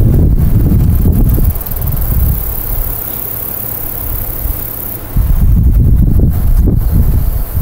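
Wind blowing outdoors against the microphone, loud rumbling gusts that rise and fall, easing off in the middle before strong buffeting returns.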